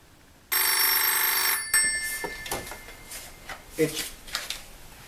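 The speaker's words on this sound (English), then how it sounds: "It's ringing." A telephone rings once, loud and sustained for about a second, then voices talk over faint background noise.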